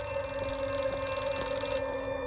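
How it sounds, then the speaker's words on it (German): A telephone rings in the horror game Outlast 2, a steady electronic bell tone repeating in short pulses, faint and with no voices over it. "Da ist das verdammte Telefon."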